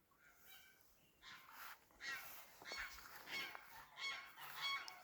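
Faint, distant geese honking repeatedly in overlapping calls, with no talking.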